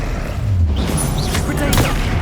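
A Bombarda explosion spell cast in Hogwarts Legacy on PS5 booms amid game battle noise, with a low rumble and scattered blasts over about two seconds; spell casting and combat effects fill the mix.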